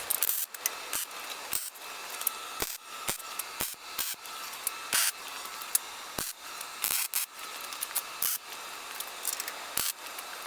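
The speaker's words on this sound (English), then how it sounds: "We're going to tack everything up and then flip it over, and we'll get it all welded together" Tack welding a project on a fixture table, with short sharp bursts of crackling arc hiss in an irregular rhythm, separated by quiet pauses, close and fairly loud with no voices.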